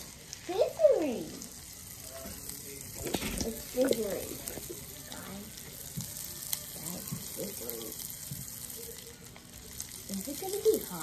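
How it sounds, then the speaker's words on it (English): Pop Rocks candy fizzing and sizzling in soda, a steady close crackle with brief rising squeaks and bursts of voices talking over it. "So right now, it's sizzling the Pop Rocks."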